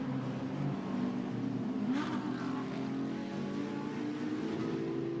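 GT2 race cars on the Barcelona circuit drone steadily at a distance, with one car sweeping past closer around the two-second mark before the engine note settles back into a continuous hum.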